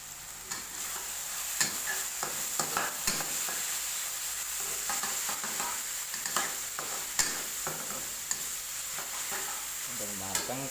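Spice paste stir-frying in a pan gives a continuous loud sizzle, broken by frequent scraping clicks from the spatula.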